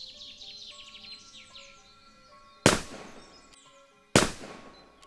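Two sharp, loud rifle-like cracks, each trailing off quickly, ring out about a second and a half apart, with birdsong chirping in the background.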